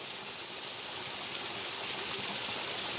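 Water pours steadily into a small irrigation pond in a hillside village, a continuous close rushing wash with no pauses and no voices.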